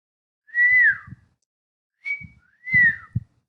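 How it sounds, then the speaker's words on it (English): A person whistles two short gliding phrases, a rising-falling tune, then after a pause a brief note and another similar phrase, close and clear. "whistle, to emit similar sounds from the mouth as birds do"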